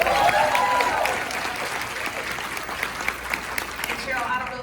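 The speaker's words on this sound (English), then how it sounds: "So let's give Cheryl another big round of applause." An audience at an event gives a round of applause, steady dense clapping that fills the whole stretch, swelling slightly at the start and holding fairly loud throughout.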